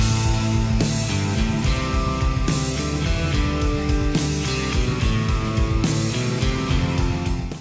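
Mixed rock song built on distorted electric guitars recorded with one or two mics and room reverb, loud and dense with steady drum hits throughout, purely instrumental with no voices.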